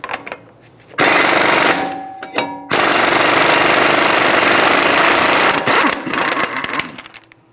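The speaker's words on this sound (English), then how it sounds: "Using a 30mm axle nut socket, we're going to remove the axle nut." Loud bursts of a power tool, like an impact wrench, rattling against a 30mm front axle nut on a 2007-2011 Toyota Camry, starting after a short lull and running in long continuous stretches.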